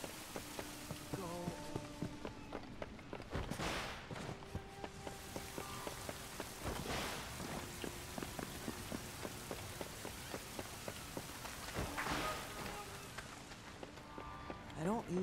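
Rain in the video game Wild Hearts falls steadily with dense patter and splashes throughout, accompanied by soft footsteps and brief tonal game sounds.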